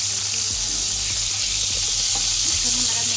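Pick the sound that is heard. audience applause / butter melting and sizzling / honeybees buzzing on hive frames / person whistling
butter melting and sizzling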